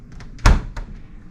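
A hotel room fridge door on the 5th floor of Bally's Hotel and Casino in Atlantic City swings open with a single close, solid thunk, standing alone against quiet room tone.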